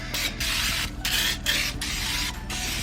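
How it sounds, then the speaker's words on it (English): Cooking oil sprayed from a can into an oven dish for vegetarian lasagna, a steady close hiss in several short bursts separated by brief pauses, over a low background hum. "Take your oven dish that you're gonna be making your lasagna in and spray it with some oil"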